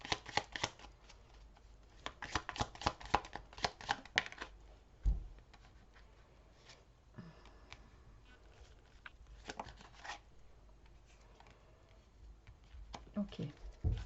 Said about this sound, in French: Je vais d'abord tirer les cartes et puis après je ferai la lecture.